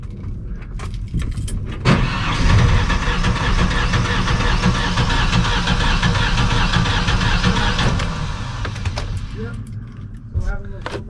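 A Ford F-150 engine cranks steadily for about six seconds without catching, the starter whirring loud and close, with people talking before and after and keys rattling.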